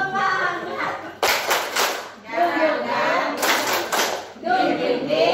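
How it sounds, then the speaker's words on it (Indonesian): A group of parents and teachers claps a rhythmic spirit clap in a school discipline workshop, two loud bursts of sharp claps breaking through steady chatter and a voice. "Tepuk semangat."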